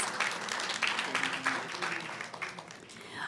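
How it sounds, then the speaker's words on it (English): An audience applauds at a school board reception held in November, welcoming the city attorney: a steady, dense patter of many hands clapping at moderate distance, rising and falling slightly without stopping. "Let's give Gary a round of applause"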